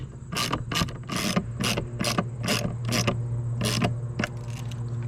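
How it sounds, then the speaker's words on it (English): Socket wrench with a 9/32 socket ratcheting while an outdoor light fixture is installed: a quick run of bright, close clicking bursts repeating in short strokes over a steady low hum, with no talking. "this is a 9/32 socket if you want to do it with a socket wrench"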